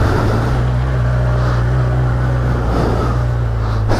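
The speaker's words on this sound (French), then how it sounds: "on se retrouve directement dans la concession avec ce CB 1000R et on sort." A 2018 Honda CB1000R motorcycle engine runs with a steady, loud low rumble as the bike rolls out of a dealership, holding an even drone throughout with no voices.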